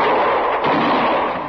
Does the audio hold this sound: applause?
no